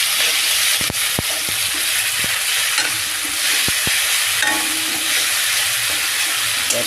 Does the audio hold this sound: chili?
yes